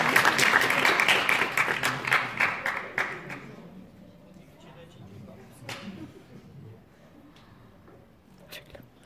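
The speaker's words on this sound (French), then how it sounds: "Il va applaudir" Applause from a small group rings out loud at first, then quickly thins to a few scattered claps and quiet murmuring, with voices heard in the background.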